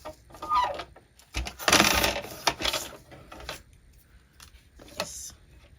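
Scissors cut embossed paper for junk journal pockets in a few crisp, close snips clustered together, with quiet pauses between them.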